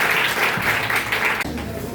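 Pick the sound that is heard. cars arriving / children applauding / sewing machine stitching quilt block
children applauding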